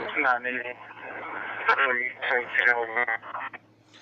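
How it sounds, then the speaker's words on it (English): A Whistler WS1080 scanner picks up a distorted DMR digital radio transmission relayed off the Newport tower, a garbled, warbling voice with a steady low hum beneath, continuous for about four seconds with brief dropouts near the end. "see why that sounds distorted is because I'm picking it up off the Newport tower"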